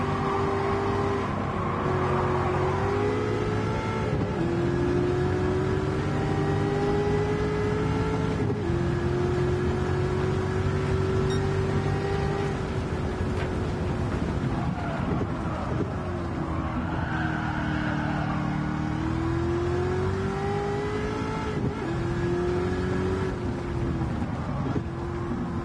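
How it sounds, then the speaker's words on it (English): A DeLorean, the Back to the Future car, in Gran Turismo 7, its engine droning and revving through repeated rising and falling gear pulls, with tire squeal and skidding mixed in, loud and continuous for about twenty-five seconds. "It's the car from Back to the Future."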